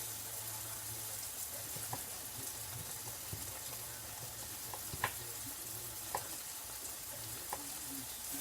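Mushrooms cooking down in a pan, giving a steady, soft, close sizzle and crackle with a few small pops and taps from a utensil scattered through it.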